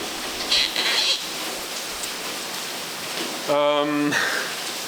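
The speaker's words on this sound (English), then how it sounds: "it started raining like crazy" Heavy rain during a thunderstorm around a home gym: a dense, steady hiss of downpour that continues throughout, with a brief voice sound breaking through near the end.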